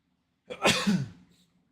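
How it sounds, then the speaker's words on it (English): A single close sneeze from a man, a sharp burst that tails off over about a second, preceded and followed by silence. "Sorry, I had to sneeze."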